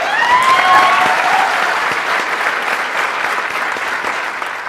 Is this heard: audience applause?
yes